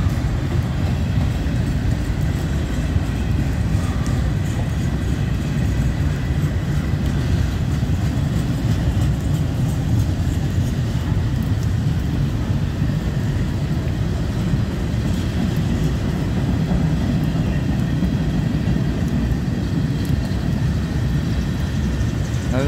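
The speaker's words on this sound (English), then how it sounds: "more grain cars" A freight train with grain cars rolls past at close range, making a steady, heavy rumble and rattle that holds at the same loudness throughout with no clear breaks.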